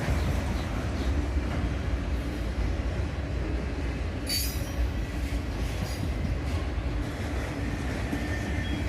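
A CSX freight train rolls steadily past at close range, its railroad cars rumbling and their wheels grinding on the rails, with a brief high squeal partway through the long continuous pass.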